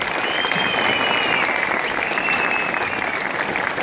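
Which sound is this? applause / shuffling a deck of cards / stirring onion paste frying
applause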